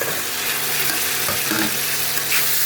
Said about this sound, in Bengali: দেখুন তেল ছেড়ে দিয়েছে, এখন আমি আলুগুলো দিয়ে দেবো